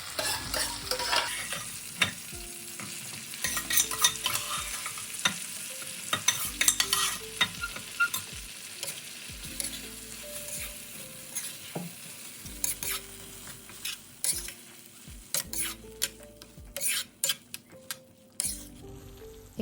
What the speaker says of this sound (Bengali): কুক যে ডালটা ছিল সেটাকে আমি এবার অ্যাড করে দেবো completely, and I will just mix it well